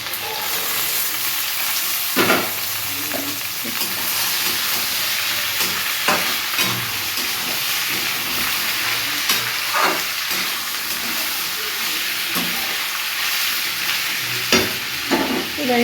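Beans and capsicum are stir-fried with rice in a pan, a continuous loud sizzle with repeated scraping stirs and sharp spatula knocks at intervals throughout.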